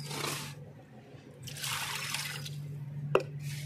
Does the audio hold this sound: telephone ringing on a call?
no